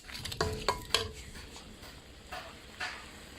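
Thai curry paste stir-fried in a pan for a home-style curry with ivy gourd and shrimp; a few sharp scrapes and clinks of a utensil against the pan over a faint, quiet sizzle.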